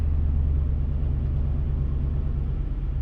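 A Ram TRX pickup with a GTHAUS exhaust in loud mode gives a steady, deep, close rumble that holds evenly throughout, with no talking.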